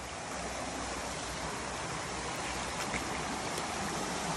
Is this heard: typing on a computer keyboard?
no